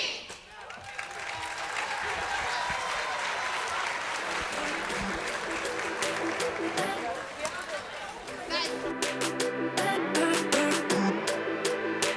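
Audience applause for a high school student performer at a state convention session, a dense sustained clapping crowd filling the whole stretch, with cheers and chatter mixed in and louder bursts near the end.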